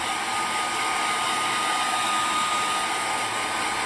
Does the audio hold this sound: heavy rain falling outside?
no